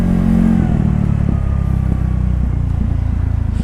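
A carbureted Honda Beat scooter with a 130cc bore-up and an aftermarket head revs loudly close by, a dense buzzing engine note that wavers in pitch over a few seconds.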